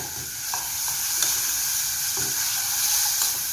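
Ground meat sizzles in a hot pan for an Italian meat sauce while a spatula breaks it up, steady frying hiss punctuated by several soft scraping stirs, with no voices.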